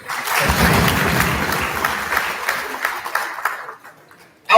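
An audience at a Borno State study tour gathering breaks into sustained applause, dense clapping that swells, holds, then thins out and fades, heard fairly close with no talking.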